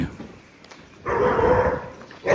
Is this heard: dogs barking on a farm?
yes